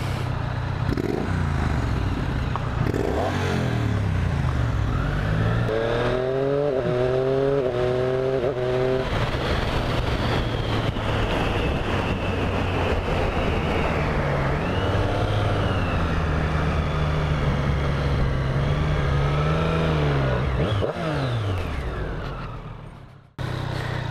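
A 2017 Triumph Street Triple 765 RS revs hard throughout. The close three-cylinder engine climbs and drops in pitch with several quick blips in the middle and sustained high revs later, then cuts off sharply at the end.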